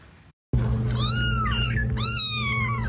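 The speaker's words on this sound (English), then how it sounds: "Seemingly endless kittens, all in the care of one man" A fostered kitten meows twice up close, with short rising-and-falling cries over a steady low hum.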